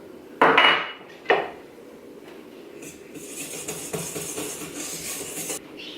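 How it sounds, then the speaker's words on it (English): Metal whisk clinks against a stand mixer bowl while mixing flour, salt and instant yeast for buttery fan rolls: two sharp, close scraping rattles, then a steady lighter stirring and clatter of utensil on bowl. "I'm gonna whisk those together in the bowl of my stand mixer"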